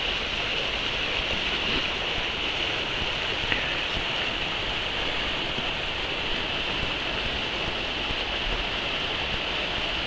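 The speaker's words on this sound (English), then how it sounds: "So nice, running water." Running water at the Vermilion Chutes, a steady broadband rush of a stream or rapids heard outdoors, continuous and fairly loud with no voices.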